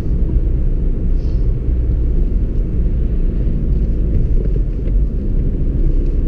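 Inside a remapped Audi A3 1.9 TDI 8L, the diesel engine gives a steady, loud low rumble while the car is driven gently at a relaxed pace, with constant road drone and no voices.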